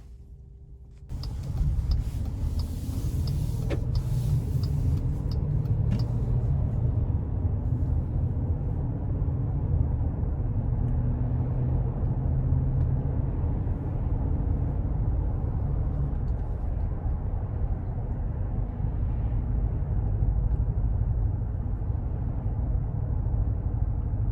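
A 2022 Wagoneer Series II with a 5.7 liter engine starts and settles into a steady, low rumble that fills the cabin at constant volume, with faint road and interior hum and no speech.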